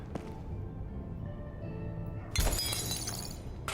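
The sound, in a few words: glass and fragile items shattering in the video game Crime Scene Cleaner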